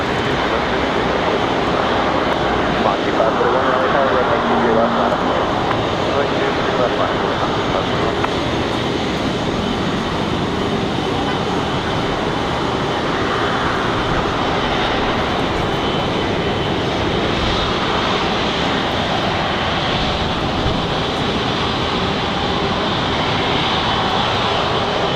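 Steady, loud broadband roar of Lufthansa airliner jet engines at Raleigh-Durham International Airport, continuous and unbroken for the whole stretch with no voices.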